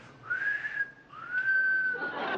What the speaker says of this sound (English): I think this is at least a two-whistle dress.